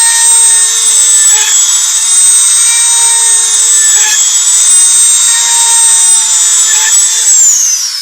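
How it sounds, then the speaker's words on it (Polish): A small power drill with a small bit whines loud and steady at high pitch, close up, with slight dips as it drills holes into an ink cartridge for a Canon Pixma MP190 printer. "Nawiercam otwory."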